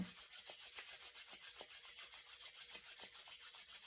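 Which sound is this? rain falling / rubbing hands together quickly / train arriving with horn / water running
rubbing hands together quickly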